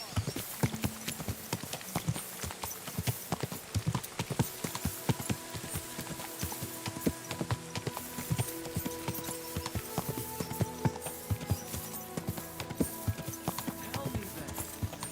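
Steady clip-clop of horse hooves trotting on a hard surface, brisk and continuous, with faint background game ambience, in Kingdom Come: Deliverance 2.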